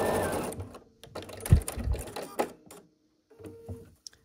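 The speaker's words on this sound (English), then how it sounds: "we're just going to sew this together like a 9 patch" Sewing machine stitching quilt block patches together, short bursts of rapid mechanical whirring and clatter with pauses between runs, close and fairly quiet with small handling clicks.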